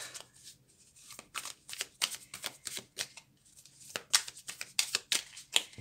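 Tarot cards being shuffled by hand in a steady run of crisp riffling bursts, close and fairly quiet, with no voices.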